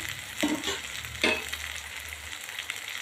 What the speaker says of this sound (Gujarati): ડુંગળી થોડી આપણી શેકાઈ ગઈ છે, કેપ્સિકમ નાખીશું